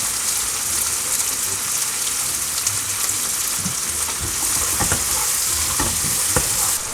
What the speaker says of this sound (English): now let's add our onions and cook that for a couple of minutes